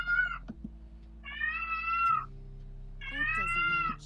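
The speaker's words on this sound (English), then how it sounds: "And there's my cat again." A house cat lets out three drawn-out meows spaced a second or so apart, close and distinct over a low steady background hum.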